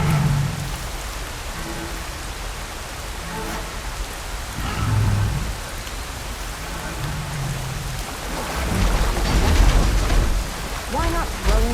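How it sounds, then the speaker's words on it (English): Rain pours steadily in the game Horizon Forbidden West, with low rumbles of thunder rolling in at intervals and growing heavier near the end, close and full. "Why not throw in some rain?"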